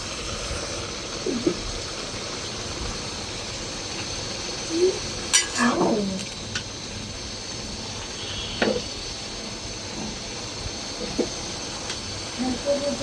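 Vegetable bhaji frying in a pan outdoors, giving a steady low sizzle and hiss. Occasional scrapes and clinks of stirring sound over it at moderate volume.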